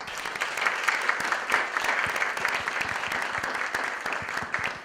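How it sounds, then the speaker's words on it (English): Steady applause from a crowd, many hands clapping continuously at a moderate, even level with no voices over it. "we should give them a round of applause as well"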